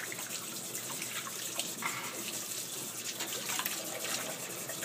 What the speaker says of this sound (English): So after I rinse it, I'm going to put her into this sink over here.